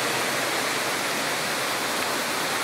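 A waterfall near a small hydro plant site roars as a steady, dense broadband rush of falling water, close and constant, with no voices.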